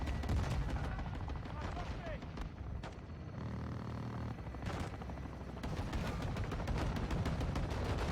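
Rapid bursts of automatic gunfire and explosions in the Call of Duty Modern Warfare 2 campaign, loud and continuous near a helicopter fight, with a voice talking over the shooting.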